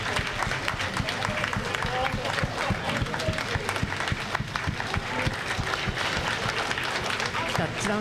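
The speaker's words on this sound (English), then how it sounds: "There's a big round of applause in the control room." Clapping breaks out among staff in the Hayabusa2 mission control room during the second touchdown operation, a lively round of applause with voices and room chatter mixed in.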